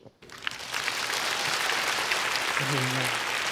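An audience at a concert stage show applauds to welcome a musician, with steady, full clapping from a large crowd building quickly after a brief quiet start and holding evenly, with a faint voice mixed in near the end.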